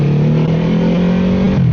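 A QJMotor SRV 600V motorcycle engine revving on the throttle, loud and close, with a strong droning tone that climbs and holds before easing slightly at the end, no voices.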